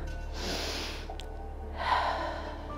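A deep breath during a Pilates exercise: two soft, airy breath swells, the second slightly louder, close to the mic over a low steady hum.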